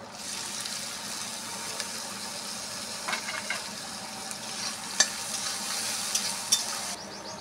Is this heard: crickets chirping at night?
no